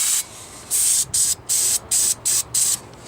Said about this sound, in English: I just need to spray this in here.